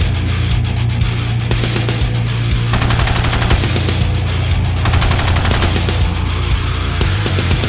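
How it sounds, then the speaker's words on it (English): Rapid bursts of gunfire aimed at cases of Bud Light beer, dense automatic-sounding volleys that run loud and continuous through the whole stretch with no speech. "he is shown shooting a gun at cases of Bud Light beer"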